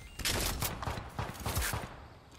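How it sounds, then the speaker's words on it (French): Bursts of gunfire in the video game Fortnite, a rapid run of sharp shots repeating in clusters at moderate distance, with no talk over them. "j'entends des tirs par là-bas"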